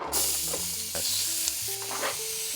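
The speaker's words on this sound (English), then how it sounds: "We add our vegetables, onions." Onions fry and sizzle in a pan over high heat while a spoon stirs them steadily, the scraping strokes loud and close over a constant hiss, with a faint hum underneath.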